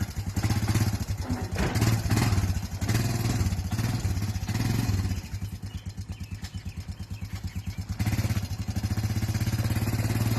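A motorcycle engine runs and revs as it rides, giving a loud, continuous throbbing rumble that dips briefly in the middle before building again.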